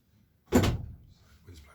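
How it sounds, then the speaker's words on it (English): A door swings shut with a single solid thunk, fairly close and moderately loud, followed by a short quieter knock and faint rustle. "door closed."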